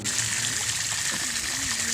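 Water runs from an outdoor tap in the early morning while plants are being watered, a steady close hiss and gush that continues without a break.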